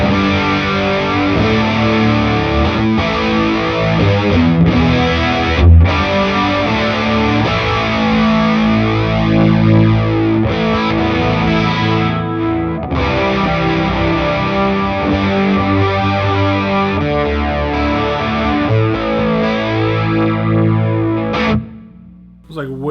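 Distorted electric guitar runs through a chorus effect placed in an amp's effects loop, giving a thick, sweeping, slightly flanger-like shimmer across continuous chords and riffs that play loudly for the whole stretch.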